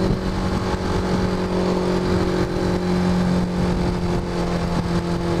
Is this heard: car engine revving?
yes